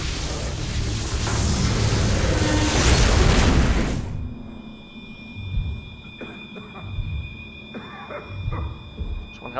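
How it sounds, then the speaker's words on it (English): A flashbang grenade goes off in a StarCraft 2 cutscene: a loud, building roar of noise cuts off abruptly into a high, steady ringing tone, with muffled low thuds and sounds underneath. "It's one hell of a flashbang."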